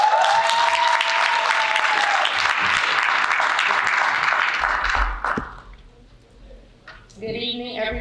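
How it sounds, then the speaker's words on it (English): Audience applause at a high school senior pinning ceremony, loud and sustained clapping from a crowd that dies away after about five seconds, with a voice beginning to speak near the end. "Please give a round of applause for Ms. Emily Pizarro."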